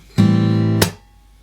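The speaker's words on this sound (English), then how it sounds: "then the 2 is once again a muted slap" A muted slap on acoustic guitar strings: a sharp percussive hit sets off a sustained strummed chord, then a second damped slap cuts it short, with no talking.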